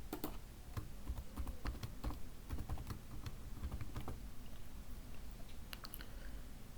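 Faint, rapid keystrokes on a computer keyboard as a password is typed, a continuous patter of light clicks over a low background hum.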